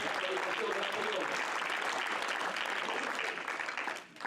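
Congregation applause during a Spanish-language church sermon, a dense continuous wash of clapping that stays steady and fairly loud before tapering off at the very end.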